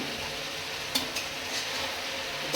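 Tomatoes stirred into a hot cooking pan, a steady sizzle and frying hiss with a few sharp scrapes and clinks of the spoon against the pan.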